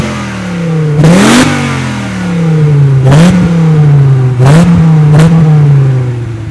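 A 1997 Dodge Viper GTS engine rumbles loud and close at a lopey idle, then rises into four quick revs, each sharp burst of throttle swelling and falling back to the rough low idle.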